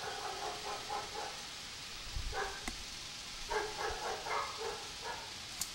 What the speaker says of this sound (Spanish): podemos venir aquí y utilizar el ladrido de este perro